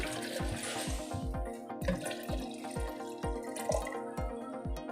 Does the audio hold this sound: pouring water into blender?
yes